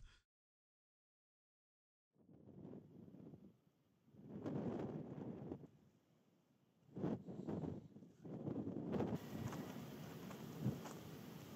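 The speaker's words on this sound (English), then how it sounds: "You can see it's a bit breezy, and it was pretty much like this throughout the whole night" Wind gusts in uneven surges against a tent at night while wild camping in Wild Nephin National Park, Mayo, with a near, rushing roar that rises and falls after a short silence.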